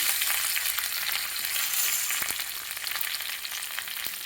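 Curry leaves and garlic crackle and sizzle in hot oil in a kadhai, a bright, steady spitting hiss with a few sharper pops, close and continuous throughout with no voices.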